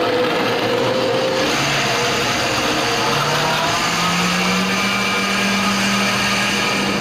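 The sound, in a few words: blender blending soup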